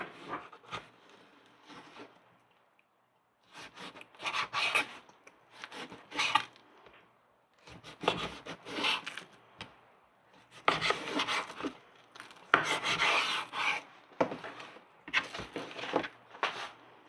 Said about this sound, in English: I would choose to cut the pieces a little bit bigger